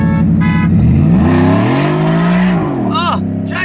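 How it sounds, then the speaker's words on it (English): Horns blare from cars during a street race between a Genesis and a supercharged Ford F150, sounding loud and close over roaring, revving engines, with a couple of sharp honks near the end. "we're both honking"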